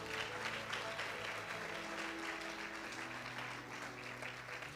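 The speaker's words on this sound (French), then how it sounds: "Oh, acclame mieux pour le Seigneur" A congregation at a church service claps for the Lord in continuous, full applause under sustained musical tones, loud and close throughout.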